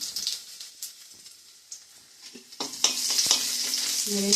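Onions and bay leaves fry in a pan, a soft crackling sizzle that builds louder toward the end with some stirring scrapes.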